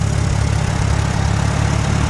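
An 18-horsepower Farmall tractor engine idles close by, a loud, steady, unbroken rumble with an even pulsing texture and no other sounds.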